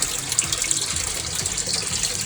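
Water runs steadily through a small backyard hydroponic setup, a continuous close splashing trickle like a tap into a basin, with no talking.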